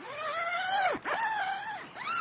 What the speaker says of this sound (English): Yeah, nice zipper action.